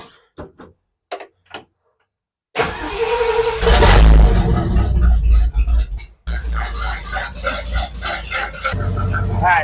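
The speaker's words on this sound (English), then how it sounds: "We're going to start it up and bring it up to operating temperature." A truck with an oil leak is cranked after a few quiet clicks, catching suddenly into a loud, rough roar that settles into a steady, close idle with brief dips and surges.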